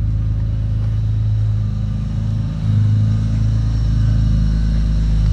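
A Nissan S14 Silvia engine runs steadily at idle after starting, giving a loud, constant low rumble close by with a slight dip and recovery midway.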